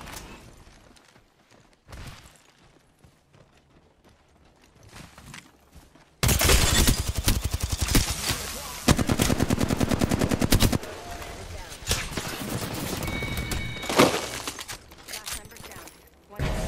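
Rapid automatic gunfire in the Apex Legends video game, loud sustained bursts after a quieter opening, with players talking over the shooting.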